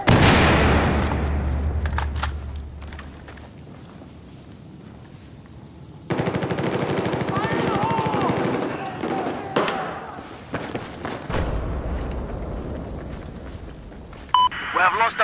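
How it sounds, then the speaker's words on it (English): Enemy machine gun fire in Battlefield 4, long rattling bursts with heavy thumps and booms, loud and close, broken by quieter gaps and mixed with game voices. "There is an enemy machine gunner east of your location."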